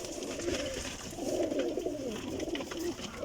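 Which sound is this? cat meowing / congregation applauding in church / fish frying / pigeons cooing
pigeons cooing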